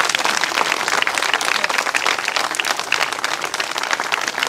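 An audience at a rally claps loudly and continuously, dense even applause filling the whole stretch without letting up.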